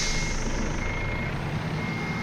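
Steady electronic reversing beeps from a truck in a truck driving video game, repeating without pause over a constant engine hum, with no talking.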